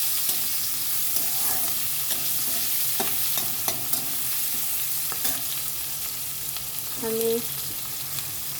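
Onion and whole garam masala frying in a pan, a continuous close sizzle with occasional utensil taps and stirring scrapes, plus a short burst of speech near the end.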